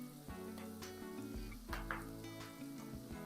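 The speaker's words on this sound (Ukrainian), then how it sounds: "І смажу до готовності засмажки." Faint, steady sizzling of onion and carrot frying in sunflower oil, with a few soft stirring knocks against a pan.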